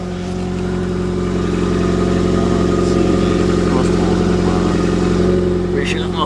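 A Nissan Sentra with a damaged muffler runs on a cold start with a steady, loud, droning hum that holds evenly throughout, with a faint rise toward the end.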